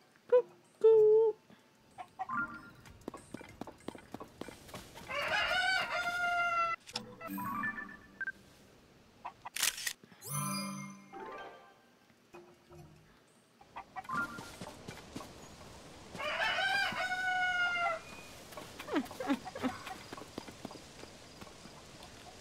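A chicken in the video game Zelda: Tears of the Kingdom clucks in short bursts among hoof clip-clops and game chimes, with a person speaking in between and once imitating the bird's call.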